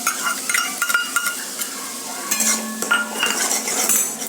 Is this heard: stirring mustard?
yes